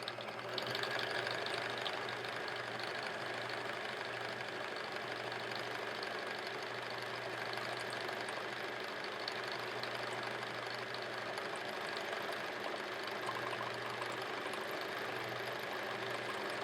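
A domestic sewing machine runs steadily throughout during free-motion quilting of a pineapple block, its motor whirring with a continuous rapid needle chatter, close and even with no pauses.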